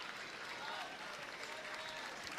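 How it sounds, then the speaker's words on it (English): A crowd at a swimming finals meet applauds in a dense, even wash of clapping that holds steady throughout, heard at a distance with no voices standing out. "And her competitors with a round of applause as well."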